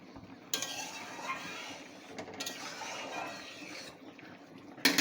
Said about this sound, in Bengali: ঢাকাটা আমি এখন খুলবো, খুলে দেখে নেব।